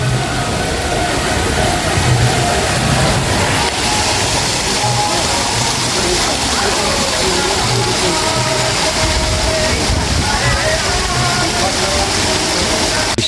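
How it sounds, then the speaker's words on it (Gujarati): Water flows and gurgles near the Nageshwar Mahadev temple, a steady, loud, close rushing that carries on unbroken from start to end. "પહેલાં થોડુંક ખળખળ પાણી હાલ્યું જાય છે"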